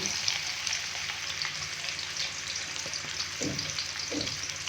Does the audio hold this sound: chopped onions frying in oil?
yes